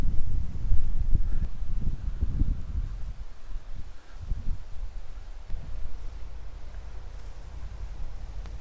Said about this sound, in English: it's blooming windy where I am